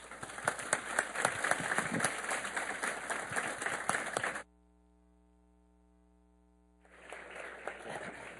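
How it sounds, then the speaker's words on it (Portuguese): An audience applauds to welcome Professor Roberto Romano onto the stage at a CPFL Cultura evening talk. The steady, dense clapping fills the room for about four seconds, cuts to silence, then resumes more softly. "Vamos recebê-lo com aplausos de boas-vindas."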